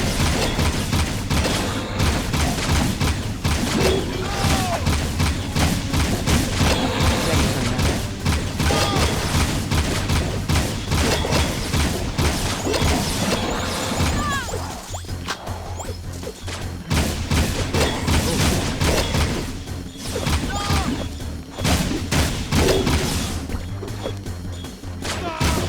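Gunfire fills a fight against metalheads in the Jak II video game, with dense bursts of shots, crashes and impacts layered over game music, continuous and loud for most of the stretch, briefly easing midway.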